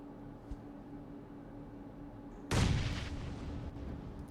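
A grenade blast in the mobile battle royale PUBG Mobile bursts in loud and close after a quiet stretch, a broad crash that rumbles and slowly fades over a couple of seconds.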